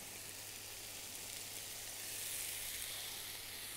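Onions and olives sizzle steadily in hot oil in a pan for a Moroccan chicken tagine with olives, a continuous close hiss that swells slightly midway, with no talking.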